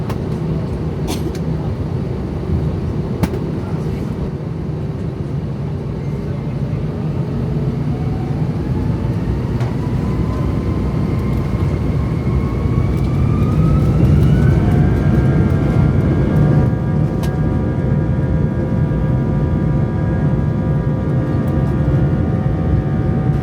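A British Airways jet takes off from London Heathrow, its engines producing a loud steady roar inside the cabin with a rising whine that climbs and levels off, continuous throughout with no talk.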